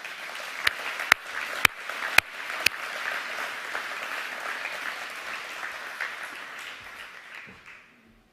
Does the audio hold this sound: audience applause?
yes